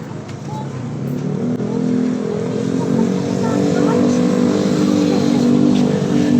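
Video game race cars accelerating and overtaking, a sustained engine roar that builds gradually in pitch and loudness, with a voice talking over it.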